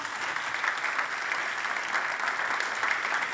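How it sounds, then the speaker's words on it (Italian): Audience applause in a conference plenary hall, greeting remote viewers at the opening session; a continuous, even roar of many clapping hands with no break. "magari possiamo anche salutare con un applauso se siete d'accordo"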